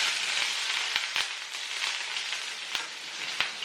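Poha fries in a pan with a steady, close hiss, broken by a few sharp crackles and clicks, with no talking.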